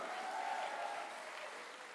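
An audience at a Tagalog church preaching service claps together, a steady wash of applause that holds at an even level and fades slightly toward the end.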